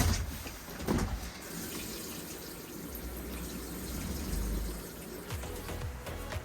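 A shower faucet inside an RV runs during winterizing, pushing water and pink antifreeze through the line as a steady broadband hiss and rush with a few brief knocks, fairly close and alone.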